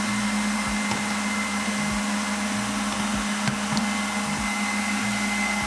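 A MOD Blend Pro blender whirs steadily while blending basil pesto, a continuous motor drone with a low hum and small pulsing changes in pitch as the blades churn, loud and close throughout.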